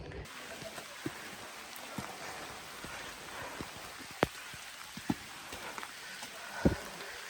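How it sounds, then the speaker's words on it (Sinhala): Light rain patters steadily, with scattered louder drips landing nearby. "එක සැරේ විනාඩියෙන් දෙකකින් ආපු වැස්සක් නේ"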